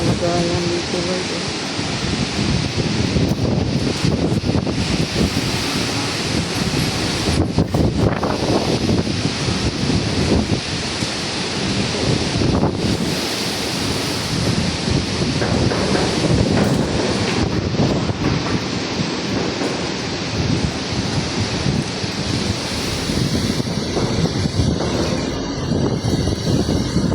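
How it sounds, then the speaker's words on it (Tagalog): Strong, gusting typhoon wind in the Philippines roars continuously across the whole clip, loud and broadband, buffeting the microphone with surges and lulls. "Tama na po yung hangin."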